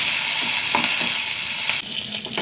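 Onion, dried chillies and curry leaves frying in hot oil in a pan: a continuous close sizzle with a few soft stirring scrapes.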